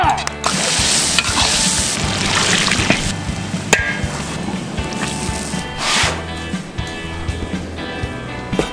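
Zhajiang noodle sauce with minced pork, scallion, ginger, garlic and dark soy sizzles loudly in a wok as it is stir-fried, a continuous close hiss broken by sharp scrapes and clanks of the spatula.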